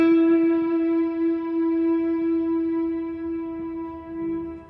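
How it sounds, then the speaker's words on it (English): A single sustained electric guitar note through a Strymon Cloudburst reverb pedal rings out with steady harmonics, blooming and swelling with a developing synth tone through a long, washy reverb tail for several seconds. "you are hearing a developing reverb as well as a developing synth tone"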